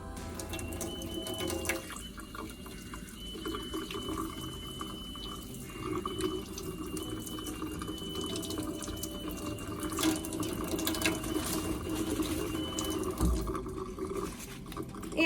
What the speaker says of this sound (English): you're going to want to turn your water back on and rinse with clean water.